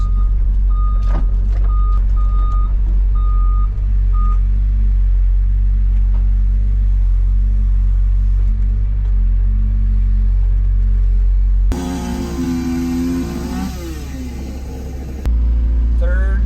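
A heavy truck backs up at a garage excavation site, its reversing alarm beeping steadily over a deep, loud diesel rumble that continues throughout.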